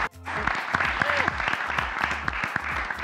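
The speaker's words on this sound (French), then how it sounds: "On les applaudit s'il vous plaît encore une fois." Audience applause at the Genie Milenyal 2022 semi-final, a dense, steady wash of clapping that keeps going the whole time, with a low hum and some background speech mixed underneath.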